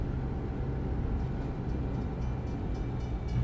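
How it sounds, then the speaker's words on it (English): A train passing in the truck-driving video game American Truck Simulator, a continuous low rumbling drone of rail cars that sits steady and moderately loud throughout, with no talk over it. "You got a train somewhere."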